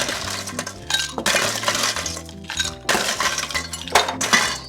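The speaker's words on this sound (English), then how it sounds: "Add some ice." Ice cubes dropped into a cocktail shaker for a bee-themed drink, a run of sharp clinks and rattles as cubes tumble in, close and loud, in several clattering bursts.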